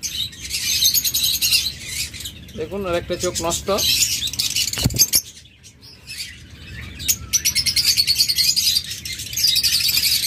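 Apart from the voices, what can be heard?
lovebird chirping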